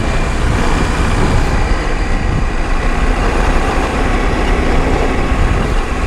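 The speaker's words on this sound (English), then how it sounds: "an upgraded muffler, I should say. It's an option from KTM." A KTM 790 Adventure R motorcycle fitted with an optional upgraded KTM muffler runs with a loud, steady engine drone that holds constant throughout, with no talking.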